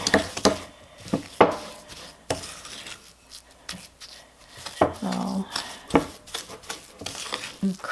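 A spoon creaming coffee cake batter in a bowl, giving irregular soft scraping and clinking strokes against the bowl, close up, with someone talking intermittently over it.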